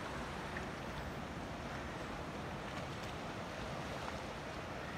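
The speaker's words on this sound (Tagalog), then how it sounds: "Yan yung dagat dito." Sea waves at Horseshoe Bay beach in Bermuda, a steady broadband wash of surf mixed with heavy wind buffeting the microphone, with no speech.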